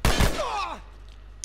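A single loud shot from The Last of Us at the start, followed by a short groaning voice-like tail that fades into quiet.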